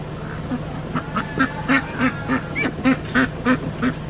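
Pet ducks quack in a short series of nasal calls, roughly a dozen evenly paced quacks close by over a steady low hum, with no talking.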